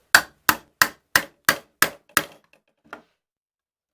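A motor being hammered into a hole in a homemade cotton candy machine: seven sharp, evenly spaced blows close up, then one fainter tap after a pause.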